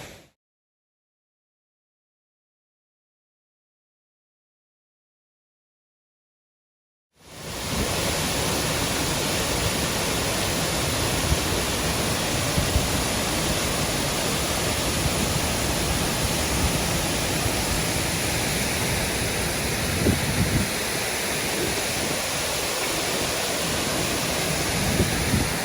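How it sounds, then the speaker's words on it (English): A waterfall in the Huon Valley, Tasmania, pours as a steady, loud, broadband roar of rushing water after several seconds of silence, continuing unbroken to the end. "Really, really nice waterfall"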